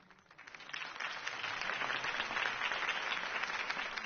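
Crowd applause swelling after a political campaign speech in a Batman Telltale video game, starting softly and building into a steady, dense wash of clapping that holds for several seconds.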